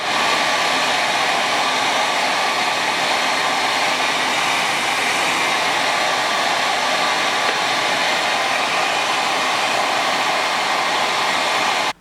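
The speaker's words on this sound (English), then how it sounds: "you want to blow dry this area until it gets sticky" A hair dryer set to warm and high blows steadily at close range, a loud, even broadband whoosh with a faint tonal whine, running without pause and cutting off abruptly at the end.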